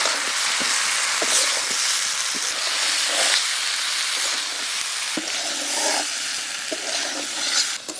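Fried vegetables and chicken kofta go into a spice masala and sizzle loudly and steadily, with intermittent stirring scrapes and clacks heard close up and no talking.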